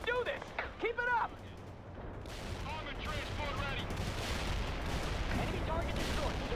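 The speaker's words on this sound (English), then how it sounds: "Let's have a couple tow missiles go out." TOW anti-tank missiles launching in the World in Conflict: Soviet Assault real-time strategy game, a sustained rumbling roar of fire and explosions building after a few short radio voice lines.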